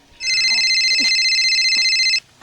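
A telephone rings in a comedic Sundanese film scene, one continuous loud electronic ring of about two seconds with steady high tones, faint voices and small noises beneath it.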